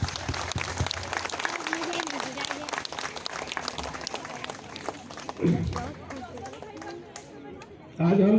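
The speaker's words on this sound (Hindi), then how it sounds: "पहले तो ये परेड के लिए मैं ताली बजाता हूँ" Applause from an assembled crowd for a parade at a CISF foundation day ceremony, sustained clapping that fades toward the end with murmured chatter and a brief voice over it.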